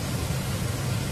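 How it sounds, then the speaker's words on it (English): An electric fan runs in a home kitchen, making a steady, even whooshing hum with a low rumble and no change across the moment. Nobody speaks. "Excuse my fan here."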